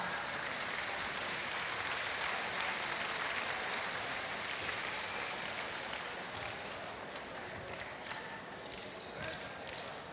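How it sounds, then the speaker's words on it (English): Applause at the awards ceremony of the All-Asia basketball tournament fills an indoor arena, a broad, sustained wash of crowd clapping that slowly thins, with a few sharper claps near the end. "let's give them a warm round of applause."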